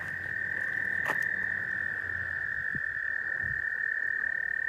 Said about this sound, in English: I love the frogs.